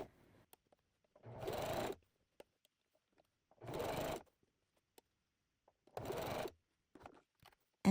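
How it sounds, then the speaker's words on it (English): A sewing machine runs in three even bursts of roughly a second each, sewing a 3/8 inch seam allowance, with short quiet pauses between the runs and faint clicks. "I'll show this on the machine. I'm sewing with a 3/8 inch seam allowance."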